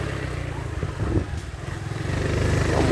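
A Honda Biz motorcycle engine runs under a rider downshifting into second gear while approaching, a steady close drone that dips briefly and then builds as the revs climb.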